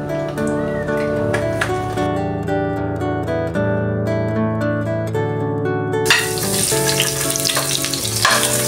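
Cooking oil sizzles steadily in a pan, sautéing the base for mung beans with Malabar spinach, the frying noise running continuously beneath prominent music.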